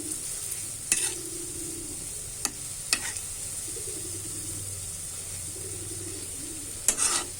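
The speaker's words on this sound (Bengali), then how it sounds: "এখন আস্তে আস্তে করে ভেজে নেব পিঠেগুলো" Jackfruit-juice fritters (pitha) frying slowly in oil over low heat, a steady soft sizzle with a few sharp clinks and scrapes as the fritters are turned, no talking.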